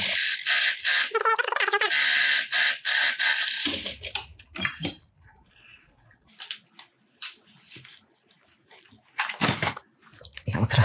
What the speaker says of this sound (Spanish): lo coloco en el largo de puntada en 4. Y le hago un pespunte todo ahí alrededor